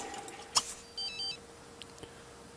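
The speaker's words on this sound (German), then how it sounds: "Ja, schon wieder mal Telefon." Electronic telephone ring from the life-simulation video game The Sims 3, a few short synthetic beeping tones in a quiet stretch with no talk over them.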